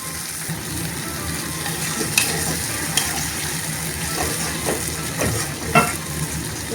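Tomato puree poured over well-fried onions for a spicy rajma curry, sizzling in a pan with steady broadband frying hiss, a few clinks of a stirring spoon and bursts of louder spitting as the wet puree hits the hot oil.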